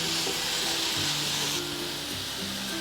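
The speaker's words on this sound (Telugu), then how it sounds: "ఉల్లిపాయని 1 నిమిషం వేగనివ్వాలి." Chopped onion, capsicum and green chillies fry in a pan for an oats breakfast, giving a loud, steady sizzle and hiss throughout with no voices.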